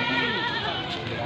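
Goat bleating at a livestock market with a wavering, nasal call close by. Market chatter runs underneath for the whole brief moment.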